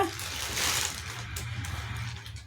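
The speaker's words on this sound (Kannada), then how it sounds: "ರುಬ್ಬಿರುವಂಥ ಮಸಾಲೆನ ಈಗ ಸ್ವಲ್ಪ ನೀರನ್ನ ಸೇರಿಸ್ಕೊಳ್ಳಿ." Water pours into ground coconut masala for a double beans curry, making a short, close splashing gush that fades into quieter trickling.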